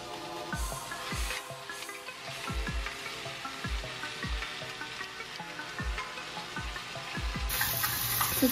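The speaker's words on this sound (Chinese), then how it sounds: "现在在干煎这只鸡" A whole chicken dry-fries in its own skin fat in a pan, giving a steady crackling sizzle with a run of low, regular thumps and knocks.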